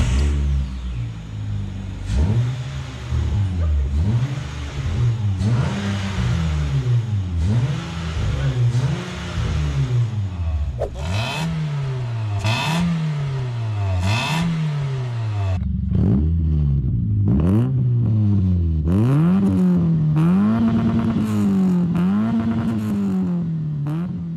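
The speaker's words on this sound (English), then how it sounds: "what some cars sound like with just muffler deletes only" Cars with muffler deletes rev repeatedly, engines climbing and falling in rapid successive pulls with a loud, raspy exhaust note, several sequences back to back and close by.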